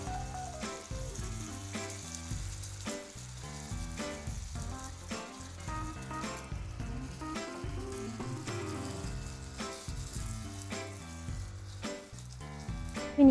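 Julienned zucchini sizzles in a hot pan for a keto zucchini crostata, a constant close frying hiss running under background music from start to finish.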